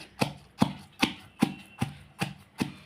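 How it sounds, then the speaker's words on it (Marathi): Raw green mango thecha is pounded in a mortar and pestle, seven evenly spaced dull thuds about two per second, close and fairly quiet. "ठेचा आपला छान प्रकारे खलबत्त्यामध्ये कुटून घेऊया"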